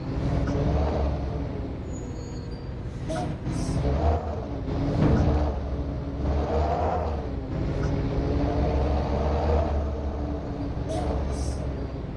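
A tuned heavy truck engine in the video game Truckers of Europe 3 hums and revs in steady waves, with occasional hissing bursts like air brakes over the low rumble.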